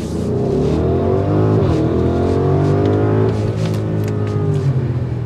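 A 2024 Audi SQ8 accelerates hard in dynamic mode, its engine note climbing through gears with a brief dip at a shift, loud and continuous from inside the cabin.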